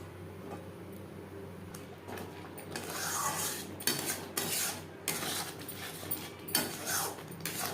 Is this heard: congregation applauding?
no